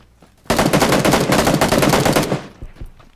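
Sustained automatic gunfire from PlayerUnknown's Battlegrounds (PUBG), a loud dense burst of rapid shots lasting about two seconds, followed by a few scattered fainter pops.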